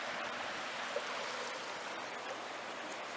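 A river flows steadily at the foot of the White Cliffs of Conoy, giving an even, soft rushing wash with no talk over it.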